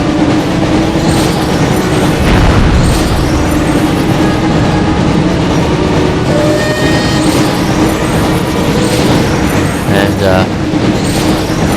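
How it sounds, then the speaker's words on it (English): Loud, continuous rumbling of a passing train in the PS1 game Harry Potter and the Chamber of Secrets, with clanking and screeching over a steady low roar and other game effects layered on top. "Got away from the train safely."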